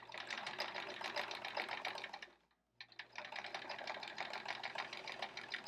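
Sewing machine free-motion quilting a chevron quilt, running in a fast, steady needle chatter with a brief pause midway before starting again, close and loud with no talk.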